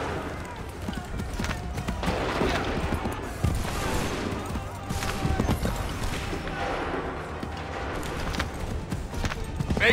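Musket volleys crackle during a battle in Assassin's Creed III Remastered, a dense, ragged burst of gunfire and clatter that keeps going for the whole stretch, with shouted voices mixed in.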